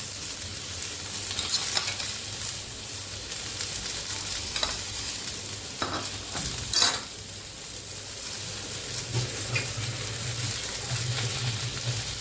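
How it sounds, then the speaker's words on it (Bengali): Spices fry with vegetables in a pan while being stirred, a steady sizzle with scraping stir strokes and occasional sharp clinks of a utensil, close and constant throughout. "সামান্য একটু জল দিয়ে আমি মশলাটা সবজির সাথে কষিয়ে নেব।"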